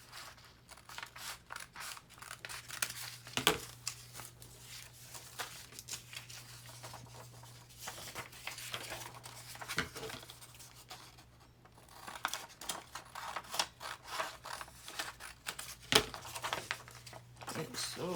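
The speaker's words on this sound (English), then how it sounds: "And then I'll kind of just cut right there on the bottom where the bag ends." Scissors cutting a clear plastic bag for a junk journal: repeated crisp snips and crinkling of plastic, fairly faint and close, over a low steady hum.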